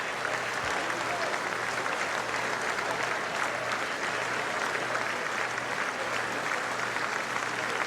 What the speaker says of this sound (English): he gets way more applause than any of our presidents